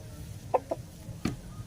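A backyard gamecock rooster gives a few short, soft clucks close by, three brief notes separated by pauses in an otherwise quiet setting.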